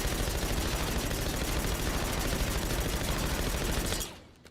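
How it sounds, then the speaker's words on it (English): A machine pistol fires in a sustained rapid burst in Call of Duty Warzone, loud and close, a dense rattle of shots that cuts off sharply near the end with no talk. "This is my machine pistol."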